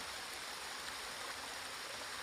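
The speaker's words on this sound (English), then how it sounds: "Just water coming out of rocks all over the place." Continuous rushing of water spilling out of rocks along the Appalachian Trail, a steady close wash of flowing water with no voices.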